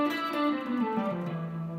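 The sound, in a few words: E Phrygian mode played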